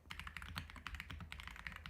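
Fast, steady typing on a computer keyboard, a dense run of crisp, close key clicks and taps with no voices.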